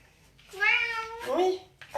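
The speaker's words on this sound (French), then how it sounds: "J'ai le chat qui réclame de rentrer." A house cat meows twice close by, a long drawn-out call followed by a shorter rising one, asking to be let back indoors during a yoga session, with a brief voice starting at the end.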